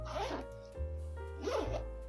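A zipper on the back pocket of a Dooney & Bourke Florentine leather bag is pulled in two quick, close, raspy strokes with a short pause between them.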